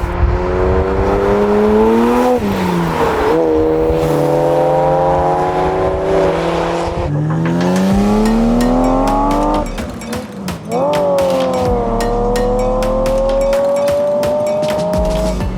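A loud Ferrari Testarossa engine revs repeatedly, pitch climbing and falling through gear changes, growling close by with sharp pops and crackles between pulls.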